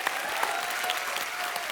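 Audience applause on a comedy show, a short burst of dense, loud clapping from a large studio crowd that fills the whole moment without pause.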